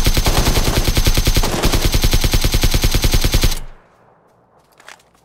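Rapid automatic gunfire fired at a tuk-tuk in the video game PUBG, a loud, close, rhythmic burst of dozens of shots lasting several seconds, then cutting off to near quiet with one faint later thump.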